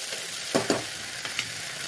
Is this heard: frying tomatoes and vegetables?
yes